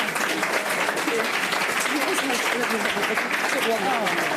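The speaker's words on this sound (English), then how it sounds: "Can I just ask a warm applause for Katrina for her job?" Audience applause at a public event on democratic participation in the 2019 European elections in Bruges, a steady wash of many hands clapping throughout, fairly loud, with some voices mixed in.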